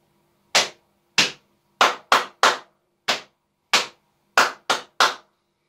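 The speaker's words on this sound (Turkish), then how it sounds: "İki kez çift elimizle dizimize vuruyoruz ve 3 kez alkışlıyoruz." Body percussion in a music lesson: hands slap the knees twice together, then clap three times, the pattern repeated, giving ten sharp, close, dry hits in two groups with silence between them.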